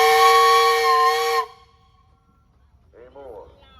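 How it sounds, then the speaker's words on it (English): A steam traction engine at a threshing show parade blows its whistle in one long, loud, bright multi-tone blast that cuts off sharply, followed by a brief quiet voice. "you got a whistle"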